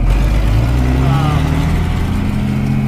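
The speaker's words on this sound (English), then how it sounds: "This tractor is quite loud, so we won't be just running it for very long." Loud engine of a farm tractor planting corn, a steady low rumble running throughout, close by, with a brief rising tone partway through.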